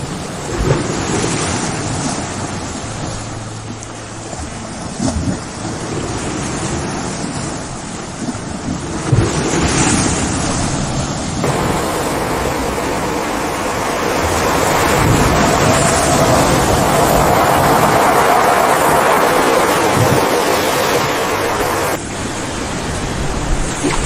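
Ocean surf rolls in at Cathedral Cove beach in New Zealand, a steady loud wash of breaking waves with gusts of wind buffeting the microphone throughout.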